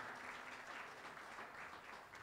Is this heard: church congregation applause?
yes